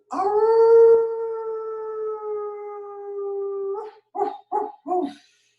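During a vinyasa yoga session, a human voice imitates a wolf with one long, sustained, steady howl, then breaks into three short, clipped yips, all close and with no talk.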